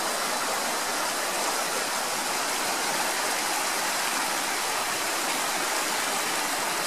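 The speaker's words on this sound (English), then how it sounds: "We're right at a place called the Last Rapid on the Stanislaus." Rushing river water at the Last Rapid on the Stanislaus River near Knights Ferry, a steady broadband roar of churning whitewater heard close and continuous with no voices.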